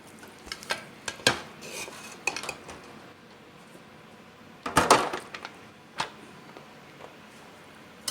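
Cooked rice is spooned into a container, with a series of light metal spoon scrapes and clinks against the dish, irregular and close, one louder clatter midway.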